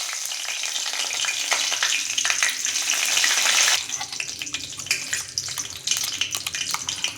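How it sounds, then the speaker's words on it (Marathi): Curry leaves hit hot oil already crackling with cumin and mustard seeds for a traditional Bhogi vegetable dish, a loud, bright sizzle that eases after a few seconds into lighter crackling and pops. "आता याच्यामध्ये इथे मी कढीपत्ता घालत आहे"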